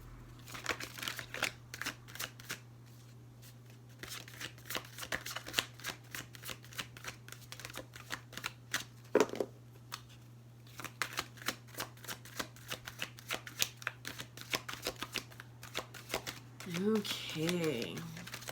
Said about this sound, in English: I'm going to pull some oracle cards